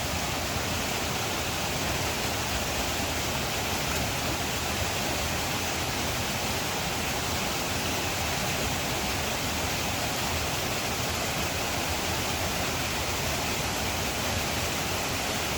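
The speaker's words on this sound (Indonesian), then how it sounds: "aliran air yang sungguh mantap di tengah-tengah" Mountain stream rushing steadily through a forest on the trail toward Junghuhn peak, a dense, continuous broadband roar of flowing water with no pauses and no voices.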